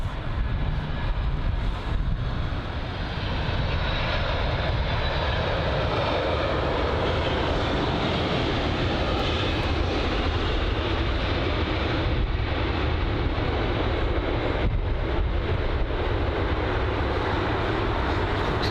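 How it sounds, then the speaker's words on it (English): Eurowings Airbus A319 taxiing at London Heathrow, a continuous roaring jet engine rumble with broad wind-like hiss, steady and fairly loud throughout with no talking. "Got the Eurowings A319 also, that's taxiing right now"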